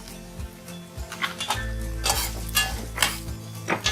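Green chilies roast in a pan with ginger for an eggplant-potato curry: steady sizzling and frying throughout, with repeated stirring scrapes and metallic clinks of a spoon against the pan, close and fairly loud.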